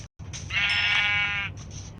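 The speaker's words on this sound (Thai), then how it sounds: "ต้องแกะต้องแกะ" Minecraft sheep bleats once in a long, wavering, nasal call, close and clear over a low ambient rumble from the game world, with a brief gap of silence just before.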